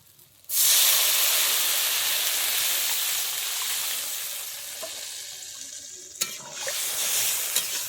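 Water hits a hot pan of frying potatoes with a sudden loud hissing sizzle that holds steady and slowly eases, with a few clinks and stirring sounds near the end.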